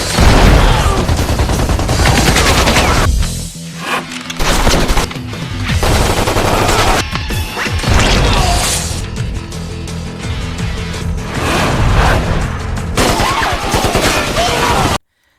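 Gunfire in an action film attack scene: dense, loud bursts and rapid shots that run almost continuously across the clip, with short lulls and heavy low booms mixed in under music and effects.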